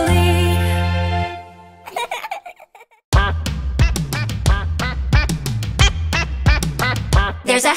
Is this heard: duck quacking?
yes